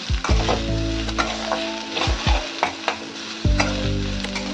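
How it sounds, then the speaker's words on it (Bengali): Onion, garlic, bay leaf and chilli fry in a pan under a loud, steady sizzle, while a spoon scrapes through them in several separate strokes, close by with no talking. "ভালো করে পেঁয়াজ, রসুন, তেজপাতা, লঙ্কা একটু ভেজে নিচ্ছি।"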